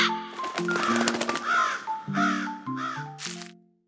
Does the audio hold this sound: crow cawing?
yes